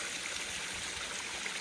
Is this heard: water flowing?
yes